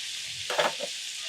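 Onions and half a jalapeno sizzling in a hot tray at a mountain campsite, a steady hiss with a brief louder crackle and clatter in the middle.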